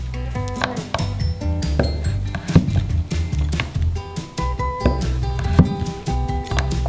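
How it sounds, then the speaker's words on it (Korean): Repeated knife strokes on a board as cheddar cheese is torn and cut into strips, a steady run of close, crisp chopping taps and thuds with light utensil clatter, no voices. "체다 치즈를 뜯어서 먼저 스트립으로 자른 다음"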